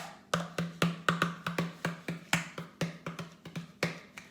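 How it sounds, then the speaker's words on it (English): Rapid hollow thumps and slaps from a professional Hawaiian gourd percussion instrument, played in a brisk, steady rhythm for several seconds, close up with no talking. "more of the professional gourds that they play. And it sounds like this."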